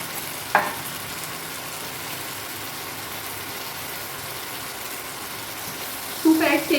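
Gravy with two spoons of ghee frying over a high flame, a steady broadband sizzle throughout, with one sharp clatter early on and a louder burst of stirring and sputter near the end.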